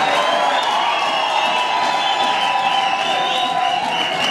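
A church congregation applauds at an archbishop's sermon, a steady, dense wash of crowd clapping and cheering that holds at full level throughout with no break.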